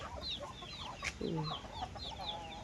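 A laying hen clucks faintly from a corner among nesting spots, with scattered small bird chirps over a soft outdoor background and no clear talk.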